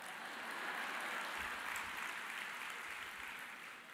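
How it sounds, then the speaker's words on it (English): A church congregation applauding during a sermon, a soft, even patter of many hands that swells briefly and fades, heard from some distance. "Yes, you may applaud that."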